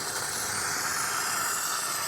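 A steamer hisses steadily and closely while a wrap is peeled off a salvaged BMW 328i E90, a constant airy rush with no voices.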